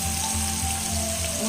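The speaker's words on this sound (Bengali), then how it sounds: "মৌরি, জিরে, পেঁয়াজ, কাঁচা লঙ্কা, আদা, এইগুলোকে এবার এই তেলের ভিতরে দিয়ে দিচ্ছি" Spice paste of fennel, cumin, onion, green chili and ginger sizzling in oil, a continuous loud frying hiss with a low steady hum underneath, brief and close, no voices.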